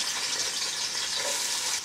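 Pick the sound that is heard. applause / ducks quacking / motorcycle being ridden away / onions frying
onions frying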